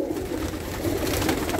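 Domestic pigeons, copper-coloured and grey birds offered for sale, coo softly and continuously at close range in a loft, with a steady low murmur and no talk.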